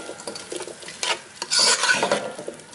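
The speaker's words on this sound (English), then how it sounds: "So add those potatoes in and just mix it up." Potatoes and onion being stirred together in a pot for corn chowder, a series of close scraping, rasping stirs with bursts of louder scuffing against the pot, no voices.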